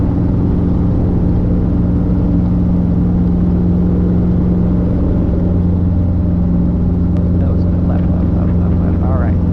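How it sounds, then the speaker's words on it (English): An R22 helicopter runs loudly from inside the cabin, a constant droning engine and rotor hum at close range with radio chatter and cockpit voices underneath. "helicopter 522 Alpha Golf, taking off from the approach in 20"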